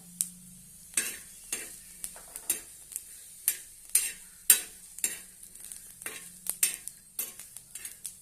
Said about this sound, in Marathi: लसणाच्या पाकळ्या त्या पण आपण भाजून घेऊया